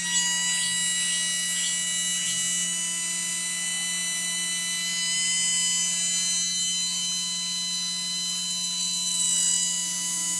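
A 550 brushed electric motor running at 11 volts gives off a constant high-pitched electric whine with a steady buzzing hum, heard close and alone without variation throughout.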